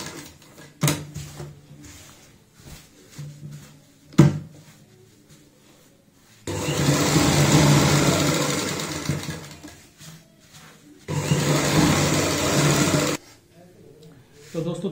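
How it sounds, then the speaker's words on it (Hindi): A sewing machine stitches the edge of a fabric stool cover, running in two long, steady whirring bursts, close and fairly loud, after scattered handling clicks and thumps, with a person talking in between. "इस तरीके से, किनारी की सिलाई लगा लेंगे।"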